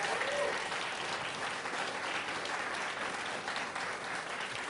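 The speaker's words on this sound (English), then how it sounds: "Another round of applause for Alana," A quiz bowl finale audience claps steadily for a contestant, a moderate, even wash of applause that holds without pause.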